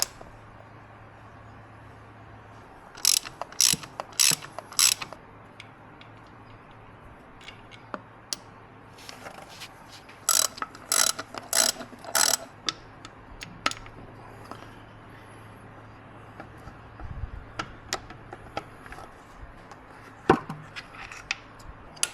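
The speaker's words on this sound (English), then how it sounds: "I began loosening the 3 bolts holding on the valve cover." Ratchet clicks come in quick bursts while loosening the three valve cover bolts on a motorcycle, crisp and close over a quiet background, with pauses between sets of turns.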